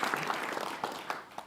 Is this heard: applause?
yes